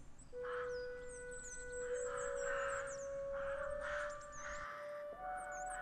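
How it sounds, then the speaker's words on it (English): Birds call in the snowy winter Cairngorms, with a few distant caws and cries over a steady hush and a faint sustained tone. "A crisp silence broken only by the sound of birds and a gentle patter of snow."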